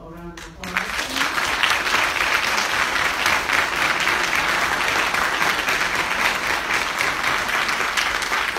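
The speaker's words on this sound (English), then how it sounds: "Let's give our panel a round of applause" An audience gives a city council candidate panel a round of applause, dense, loud and sustained clapping that swells in right after a brief voice at the start and continues for about eight seconds.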